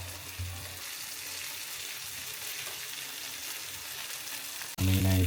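Amur fish frying in hot oil in a pan, a steady, dense crackling sizzle heard up close for several seconds, ending in a sudden louder clatter of a pan or lid.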